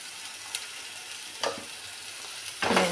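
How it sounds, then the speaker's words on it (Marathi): Ginger-garlic paste sautés in a pan for whole masoor lentils, a soft, steady sizzle broken by a few brief stirring scrapes, the last one louder and longer, heard close with no voices. "आणि ह्यांना परत असं छान असं परतून घ्यायचं"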